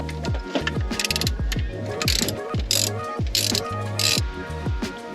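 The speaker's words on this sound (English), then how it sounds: "got the ratchet turning it" A ratchet wrench clicks as it turns, loosening plugs during an alternator replacement. The rapid pawl ticks come in repeated close, loud bursts that speed up and slow with each swing of the handle.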